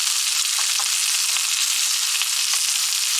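Bacon, onion and tomato fry in a pan over a camp stove, a loud, steady sizzle with faint scraping as the pieces are stirred, no voices.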